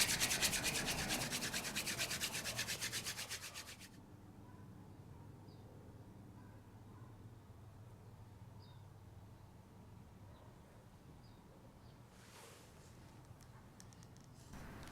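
Wooden hand drill spindle rubbed back and forth on a fireboard to seat the drill, a fast rhythmic scraping for about four seconds, then quiet outdoor ambience with faint bird chirps.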